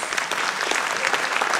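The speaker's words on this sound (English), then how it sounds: "can we please give Dr. Gail Harrison a round of applause" Audience applause at a city council candidate forum on police accountability, a brief, dense, steady burst of clapping from a crowd.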